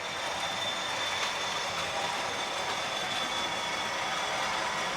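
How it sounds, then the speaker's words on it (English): Class 40 locomotive 40142 and Class 47 locomotive 47814, pulling passenger trains around a track, give a steady broadband rumble and hiss with a faint high whine, constant and fairly distant, with no voices. "Here's the final footage of these locomotives going around the track."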